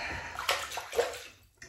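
Tap water runs and splashes in a bathroom sink to warm an Edwin Jagger orange and chrome safety razor, a soft steady gush with small sloshes and gurgles.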